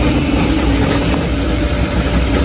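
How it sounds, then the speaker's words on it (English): A restored Holden 308 V8 with a new oil pump, balanced internals and a very mild camshaft idles steadily, a dense, even rumble with no speech. "Basically a good 308 engine with plenty of torque."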